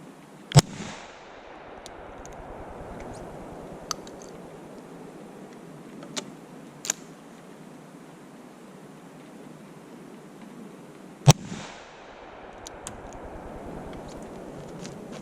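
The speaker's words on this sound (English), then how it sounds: "So let's shoot a couple shots through it." A cowboy-style gun fires a few sharp, loud shots spaced seconds apart outdoors, each crack followed by a long fading echo over a quiet background.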